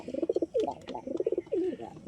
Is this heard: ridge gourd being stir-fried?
no